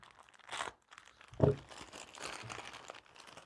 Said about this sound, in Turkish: yanlışlıkla ürünün ambalajını yırttım